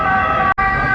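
A loud, steady ambulance siren wails close by on a street in Italy, its tone holding nearly constant with a momentary cutoff in the middle.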